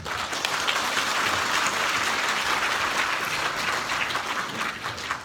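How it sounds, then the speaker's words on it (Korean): An audience at an education lecture in Korea claps in sustained applause, a dense, even wash of many hands at close range that carries on steadily and thins slightly toward the end, with no speech over it. "홍영일 박사님께 다시 한번 큰 박수 부탁드리겠습니다."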